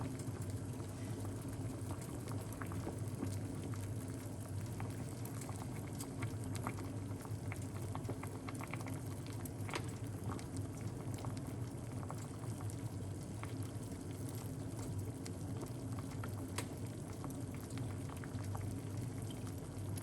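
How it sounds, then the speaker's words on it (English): A pot of lemon and parsley detox drink at a steady boil, giving a continuous bubbling, rolling hiss close by, faint and unbroken for the whole stretch. "make this boil up for a little bit"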